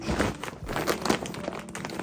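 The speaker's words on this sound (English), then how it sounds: "My mate brought me a bag of stuff, a very plastic bag that sits here." A very plastic shopping bag being handled indoors, crinkling and crackling in a steady stream of close, dense rustles for about two seconds with no voices.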